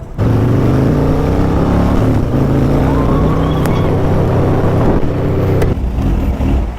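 A big bike motorcycle engine runs loud and close, holding a steady, deep throbbing drone for several seconds with only slight rises in pitch.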